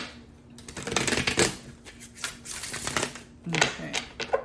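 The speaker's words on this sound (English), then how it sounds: "One more shuffle." Tarot cards being shuffled in several riffling bursts, close and fairly loud, with brief pauses between passes.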